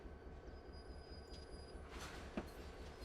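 A train being shoved back in reverse on the NS N Line in Train Simulator 2020, a low steady rumble of rolling cars with a faint squeal and one brief clank near the end, no talk.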